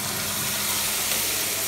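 Ground tomato paste frying in hot oil for tomato pickle gives a steady, dense sizzle and hiss, close and even throughout with no voices.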